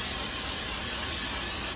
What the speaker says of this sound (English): I'm gonna go ahead and spray this very good so it doesn't stick.